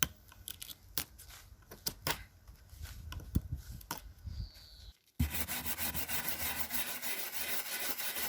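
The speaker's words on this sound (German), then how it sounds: "Das mit der Drahtbürste macht man nicht nur, um die restliche Farbe abzubekommen, die noch lose ist" A wire brush scrubs loose old paint off a wooden raised bed, giving a steady, close, continuous rasping scrape after a stretch of quieter, intermittent rubbing and knocks.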